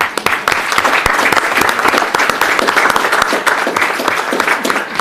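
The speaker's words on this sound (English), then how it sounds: "really just want to give them a round of applause" A school board meeting audience gives loud, close, vigorous applause to thank the organisers, with dense clapping and sharp individual claps standing out, sustained evenly throughout.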